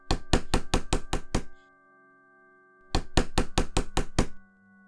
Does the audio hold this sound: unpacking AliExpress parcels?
no